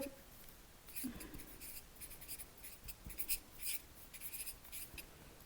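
A pencil or marker scratching along paper while a skirt base pattern is marked by hand, quiet close strokes coming in short irregular bursts.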